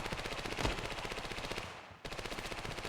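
Rapid bursts of automatic gunfire in the mobile shooter game Standoff, rattling steadily throughout with a short pause near the end before resuming.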